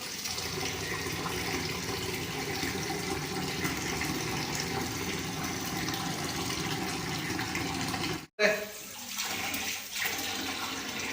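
A pot being washed under a running tap, the water gushing steadily for several seconds before briefly stopping, then splashing again more unevenly.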